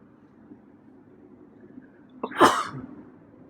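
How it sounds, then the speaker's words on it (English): A cat's single short sneeze, close and sudden, breaks through an otherwise quiet background hum. "sneeze there."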